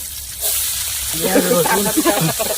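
Onion, ginger, garlic and chili hit a hot pan while cooking a crab curry outdoors, breaking into a loud, close sizzle that swells with bubbling crackle after a quiet start.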